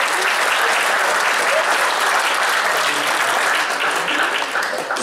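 Loud, dense applause fills a tent at a regional gathering of firefighter veterans in Luče, a sustained roar of many hands clapping close by without a break.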